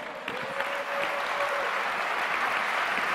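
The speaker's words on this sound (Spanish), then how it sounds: "dele un poderoso aplauso al Padre" A church congregation claps together in a dense burst of applause that swells and holds steady, heard from within the room.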